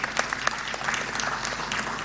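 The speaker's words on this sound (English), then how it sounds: "Can you clap for the staff of NSSF?" Audience at an annual members' meeting of a national social security fund claps, distinct individual hand claps layered into brisk applause, fairly close and lively.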